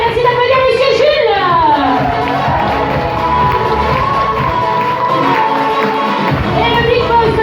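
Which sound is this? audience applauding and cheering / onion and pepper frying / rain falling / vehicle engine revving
audience applauding and cheering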